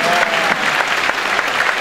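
Brief, dense burst of audience applause from new university students in a lecture hall, steady clapping throughout with a faint murmur of voices underneath.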